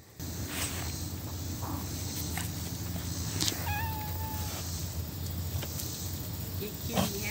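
A house cat gives a brief meow partway through, fairly close but modest in level, over a steady background hum with faint household noise.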